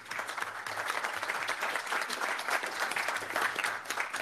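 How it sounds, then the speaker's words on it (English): Sustained applause from a conference audience for panelists closing a session, a dense, steady clatter of many hands holding at an even level throughout without a break. "How about a round of applause for all of our session one panelists?"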